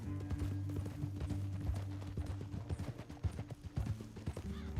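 Horses in Red Dead Redemption 2 beating out rapid, overlapping clip-clop hoof strikes at a gallop, loud and close for several seconds before the rhythm loosens into scattered hits.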